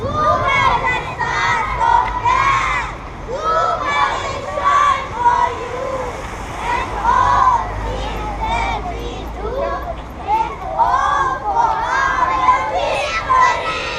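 A children's team on a roller rink outing chants a cheer together in loud, rhythmic bursts of young voices, with a crowd-like shouting that rises and falls in repeated waves.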